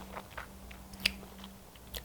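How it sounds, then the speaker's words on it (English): Someone tastes radish kimchi seasoned with gochugaru, a few soft, close crunchy bites and chews spaced apart in a quiet room with a faint steady hum. "Let me taste it again."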